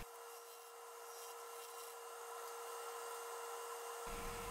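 Carter and Son bowl gouge truing a wooden bowl on a lathe spinning at about 600 RPM, a continuous close scraping cut over a steady motor hum and whine, with the cut growing heavier near the end.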